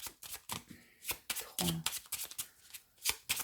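A deck of playing cards is cut and shuffled during a French-language card reading, producing rapid bursts of riffling and flicking in quick, irregular runs, close and fairly crisp, with no talk over it.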